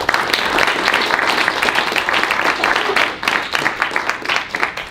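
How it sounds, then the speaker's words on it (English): Loud, close audience applause for a speaker at a public data and UX meetup, a dense burst of many hands clapping that thins toward the end into scattered claps. "let's give Abe one more round of applause"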